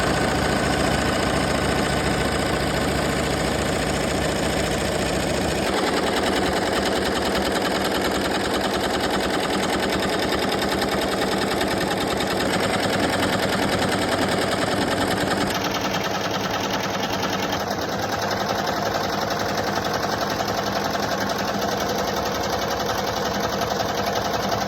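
An embroidery machine stitching out a patch gives a steady, loud mechanical whirr and rapid needle chatter that runs continuously without pause, shifting slightly in tone partway through, with no voices.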